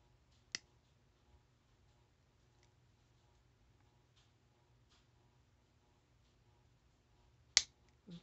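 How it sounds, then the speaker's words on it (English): Pliers snipping a link off an earring chain, two sharp metallic clicks several seconds apart in a quiet room, with a faint tick between them. "I think I am going to trim one more link off this bottom, off this chain."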